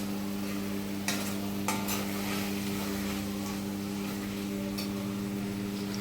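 A ladle stirs chicken curry with turmeric in a pan of oil, giving a soft steady sizzle with a couple of brief scraping clinks, under a constant low hum.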